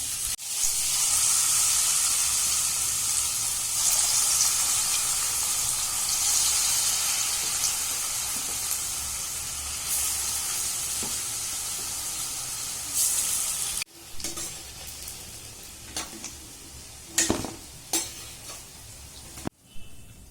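Potato pakoras fry in hot oil with a loud, steady sizzle and hiss, interrupted by stirring and the clink of a utensil against the pan; after a pause the frying continues more quietly with scattered clatter.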